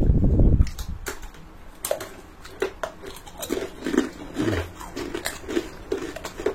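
Crunchy fried gadung (wild yam) chips being bitten and chewed, a loud first bite followed by a steady series of crisp crackling crunches close to the mic.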